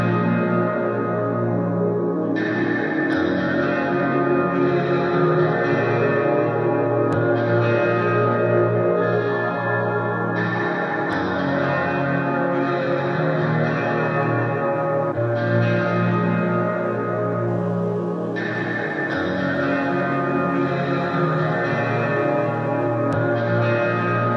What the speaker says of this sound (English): which just consist of a guitar sample and a drone.